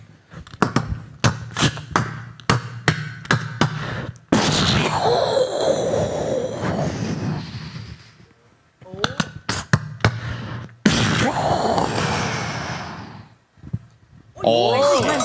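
On a Taiwanese variety-show stage during a beatboxing face-off, a performer mimics a sniper rifle with his mouth, producing sharp percussive cracks and bursts, several clipped shots and then longer hissing blasts, loud and close, with crowd noise between.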